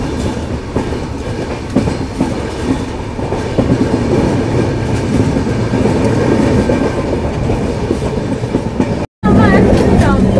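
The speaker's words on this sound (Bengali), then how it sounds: "জলপাইগুড়ি রোড শিয়ালদহ হামসফর উদ্বোধনী special train Kasimbazar rail station skip করে বহরমপুর" Jalpaiguri Road–Sealdah Humsafar inaugural special train running through a station without stopping, with steady loud rumble and clickety-clack of wagons on the rails throughout, a brief dropout near the end, and faint voices in the background.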